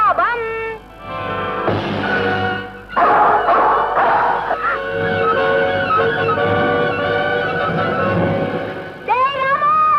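A dog runs off with a fish, giving a string of high yips, whines and yelps that rise and fall over several seconds, loud and close.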